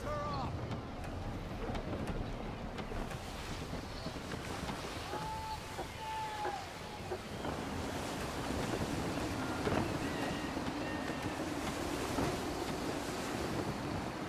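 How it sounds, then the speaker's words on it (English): A sailing ship at sea in Assassin's Creed 3, steady wind rush and wave wash over a constant roar, with faint creaking and tonal wind whistles and a voice speaking partway through. "Gusty winds can be difficult to manage."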